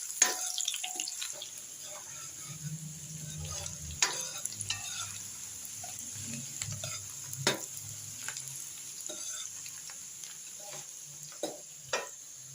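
Onions fry in a pan with the oil left over from making pakoras. A low sizzle runs throughout while a spoon stirs now and then, adding scraping clinks and taps close by.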